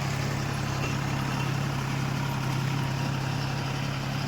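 A tractor's powerful engine idles with a steady, loud, low hum and an even drone that holds unchanged from start to finish, with no talk over it.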